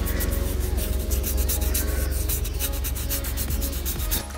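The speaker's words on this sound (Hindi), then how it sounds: "अब मैं इसको वाटर सैंडिंग करूंगा 400 ग्रिट सैंड पेपर लेके" Wet sanding of paint with 400-grit sandpaper: steady, rough scraping strokes rub continuously up close at an even loudness, with no voices.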